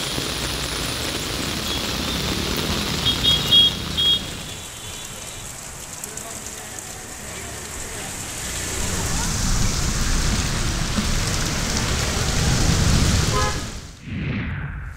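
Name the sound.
heavy monsoon rain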